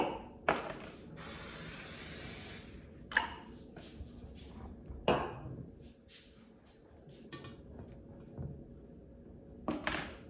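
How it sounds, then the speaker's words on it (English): Cooking spray sprayed into a container before adding Rice Krispie treats, a close hiss burst from the can amid scattered taps and thumps of handling, otherwise quiet. "you're going to take a container, and before you put the Rice Krispie treats in, you're going to spray it with cooking spray"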